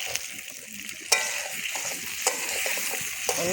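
A spoon stirs food frying in a pan at an outdoor picnic cookout, steady sizzle underneath with occasional sharper scrapes and knocks of the utensil against the pan, close and fairly loud with no talking.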